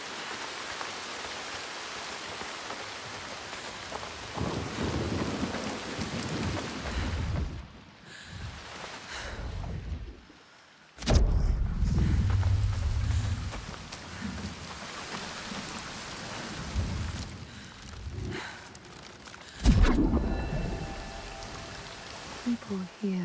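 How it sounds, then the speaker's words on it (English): Steady stormy rain hisses through a dark Hellblade II game scene, with a heavy low rumble near the middle like thunder, while a voice speaks over much of it. "The constant storm."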